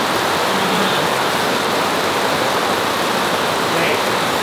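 Heavy rain at a campsite pours down as a dense, loud, unbroken wash of hiss. It stays steady the whole time with no pauses and no talking over it.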